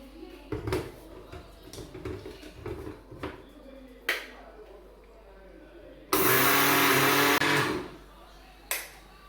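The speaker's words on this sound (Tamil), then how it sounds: "வாங்க இதை மாவா நைஸாக அரைச்சி எடுத்துக்குவோம்." An electric mixer grinder roars loudly for about a second and a half, pulverizing soaked little millet into fine flour, preceded by scattered clicks and handling knocks and followed by a brief final burst.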